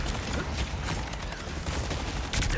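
Video game gunfire in a live-streamed shooter: a dense, continuous clatter of rapid shots and mechanical noise filling the whole moment, loud and unbroken with no speech.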